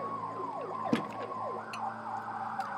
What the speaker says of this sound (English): every so often there's an ambulance that goes through in that road, and the sound just comes right in here.